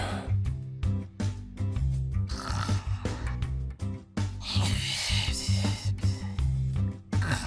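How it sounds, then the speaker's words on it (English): A voice performs loud, continuous snoring for a comic dub character, with repeated rasping snorts against dense background music. "Denji won't stop snoring."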